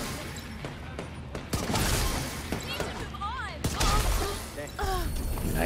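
Gunfire in The Division 2 comes as rapid bursts and sharp cracks of shooting mixed with impacts, loud and near, with a voice talking over the action.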